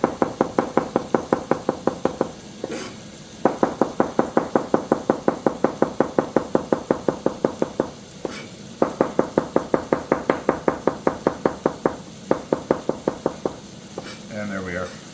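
Knife slicing zucchini and mushrooms on a cutting board in quick, even runs of crisp taps, broken by short pauses between batches, close and clear.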